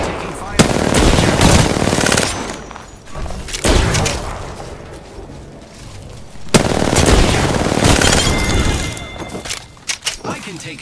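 Video game gunfire rings out in a battle royale match as bursts of rapid automatic shots and loud blasts come up close, dense and continuous with short pauses, while a player talks over them.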